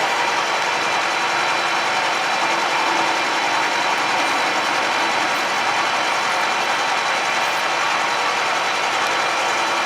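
A metal lathe takes a cut at 25 thousandths per revolution and about 50 thousandths depth, giving a steady, loud mechanical whir and hiss with no breaks.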